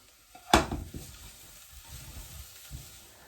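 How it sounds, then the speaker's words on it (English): Turmeric is stirred into sizzling onions in a pan: a sharp utensil clatter opens, followed by a soft, steady frying hiss and a few quieter scraping strokes. "So you want to stir in the turmeric quite thoroughly."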